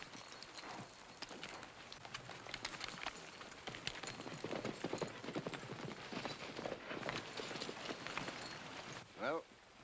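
Rapid clip-clop of galloping horse hooves runs steadily throughout, fairly close, mixed with shouting voices and general commotion, in a 1944 western film.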